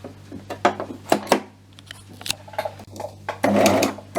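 Overlock serger sewing machine being hand-turned slowly to feed thread through, giving soft mechanical clicks and whirs in short irregular bursts, with a longer run near the end, close over a low hum.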